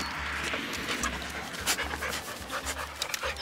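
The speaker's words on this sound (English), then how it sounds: "the dog kept on getting behind the trailer" A dog pants steadily in rapid, rhythmic breaths close by outdoors near a trailer, with a faint whimper and some light bird chirps in the background.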